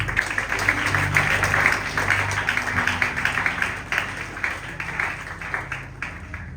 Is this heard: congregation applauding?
yes